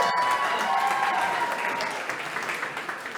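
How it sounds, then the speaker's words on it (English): Audience applause at a live comedy show for comedian MaryAnne, a steady dense clapping from a crowd that carries on throughout and fades slightly toward the end. "A round of applause for MaryAnne."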